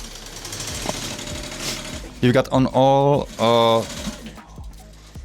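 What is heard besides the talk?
sewing machines running in a workshop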